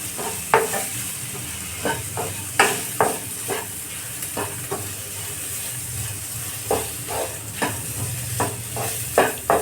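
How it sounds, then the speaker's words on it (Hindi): Tomatoes sizzle in a pan on a medium flame for dhaba-style lasooni palak as a spoon stirs them, with a steady frying hiss broken by repeated scraping strokes, close and loud, without speech. "ऐसे चला चला कर टमाटर को गला लेंगे।"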